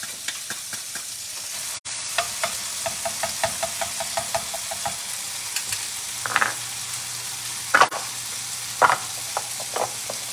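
Garlic sizzles and fries in a hot pan, a steady crackling hiss broken by quick pops and spits, close up with no talking.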